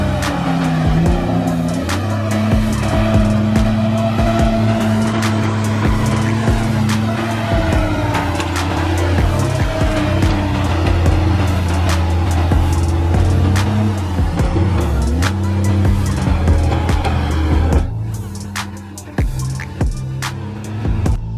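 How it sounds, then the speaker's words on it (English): A Tigercat skidder's engine roars steadily as its grapple arm gathers and hauls a heavy bundle of logs in a forest, a loud sustained drone with shifting pitch and some clanking, easing slightly near the end. "As the grapple arm pulls together a huge bundle of logs, the engine roars with authority."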